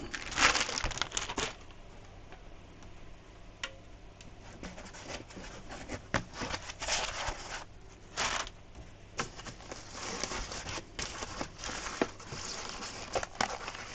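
A plastic bag holding a Sunlu filament dryer crinkles and rustles as it is handled and opened, with irregular soft crackles and louder crumpling bursts up close, fairly quiet overall and without talking.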